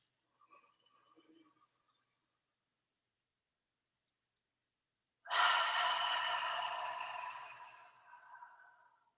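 One long, slow breath is released during a breathing exercise, a soft airy exhale that starts strongly and fades over about three seconds, following a brief faint stir in near silence.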